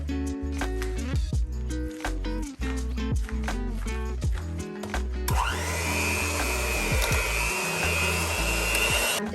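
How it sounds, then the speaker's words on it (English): Electric beaters whipping potatoes with milk for homemade pierogi filling, a steady whirring motor hum with shifting pitch and choppy bursts, close and loud without speech. "finish it off with the electric beaters"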